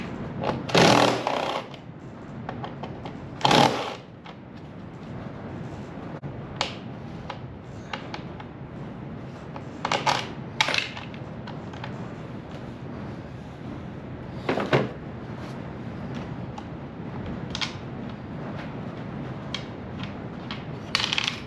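Tail light bolts and a latch come off a motorcycle while a top box bracket is fitted, a sparse series of sharp metallic clicks, ratcheting and clunks at irregular intervals, close by.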